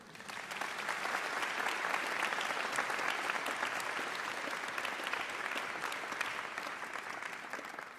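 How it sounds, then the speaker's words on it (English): Sustained, dense applause from a commencement audience for an undergraduate speaker at a university School of Languages, Literatures and Cultures ceremony, loud and steady throughout with no talk over it. "Another round of applause for our undergraduate speaker."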